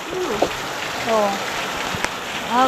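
Heavy rain pours steadily on outdoor surfaces, a dense close hiss with scattered drop impacts, while voices speak faintly in the background.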